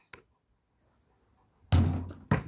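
A basketball is shot toward a hoop: a faint early tap, then a loud close thump followed by a second sharp thud as the ball strikes, with quiet between.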